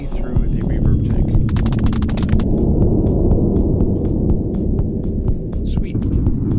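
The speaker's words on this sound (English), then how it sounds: "We are now listening only through the reverb tank." Fully wet signal from a spring reverb tank with no dry sound, a dense washy drone heavy in the lows with a burst of rapid metallic clicks early on and scattered sharp ticks throughout.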